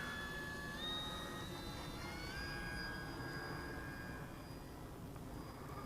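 The electric motor of a HiTec Weekender RC airplane whines steadily, a high tone that rises in pitch, heard outdoors over a constant wind-like background with no talking.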